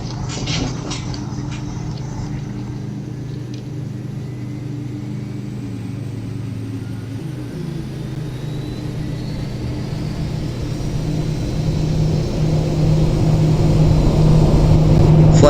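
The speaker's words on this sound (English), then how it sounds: "Start engine 1, engine 2." Airbus A320 engines starting up in the Project Flight video game: a steady low mechanical drone gradually rises into a louder, building turbine rumble and whine, with no talking.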